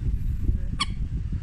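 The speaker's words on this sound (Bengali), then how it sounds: "আজকে পাখিটির নাম জল মুরগি। ইংরেজিতে এদেরকে বলা হয় কমন মোরহেন।" A common moorhen gives a single short, sharp call over a steady low rumble of background noise.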